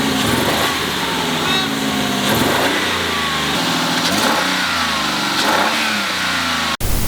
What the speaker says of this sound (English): this car has a very tough time starting